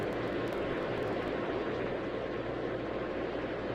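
An airliner takes off from Atlanta's runway 8 right in the Tower!3D Pro air traffic control game, a steady, loud, broadband engine roar that holds evenly throughout.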